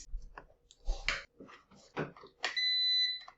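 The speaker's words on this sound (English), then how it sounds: "And then you hear that beep." Some soft handling clicks and knocks as a Power XL 7-quart air fryer is plugged in, then a single clear electronic beep that rings on briefly, close by.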